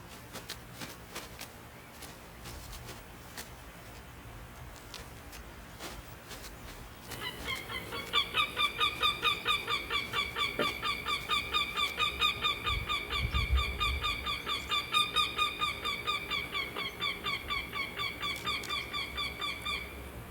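A mother bird, likely a goose, protests loudly at intruders on her territory: a rapid, repeated harsh honking that starts abruptly partway through and continues steadily, close and loud over a quiet outdoor background.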